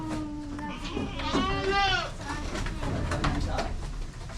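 Full-blood Boer goats in a pen in Batangas let out a wavering bleat, partly overlapping someone talking nearby amid general farmyard noise.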